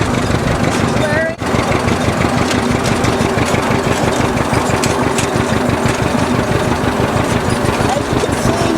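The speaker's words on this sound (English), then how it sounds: "This John Deere was a 1957 propane, and it's been worked on." A 1957 John Deere propane tractor, recently repaired and fitted with a hand clutch, running while baling hay, its engine chugging loudly and close in a fast steady rhythm throughout the clip.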